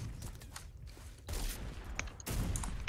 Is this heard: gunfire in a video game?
yes